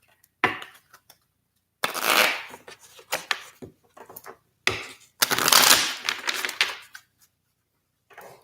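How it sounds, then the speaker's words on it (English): Tarot cards being shuffled by hand in several separate bursts of riffling and rustling, close and fairly loud, with short pauses of silence between them. "Shuffle one more time."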